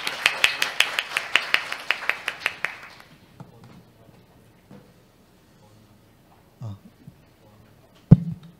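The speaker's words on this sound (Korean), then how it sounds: "여러분 큰 박수 부탁드립니다." Sparse applause from a conference audience, roughly ten distinct claps in a quick, even rhythm over about three seconds, then near silence with a few faint knocks and one sharp tap.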